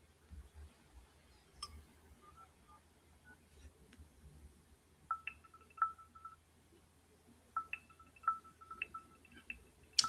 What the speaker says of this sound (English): Why is my phone not dialing?